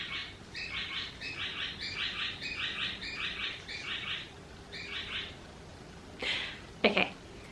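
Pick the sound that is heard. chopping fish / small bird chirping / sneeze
small bird chirping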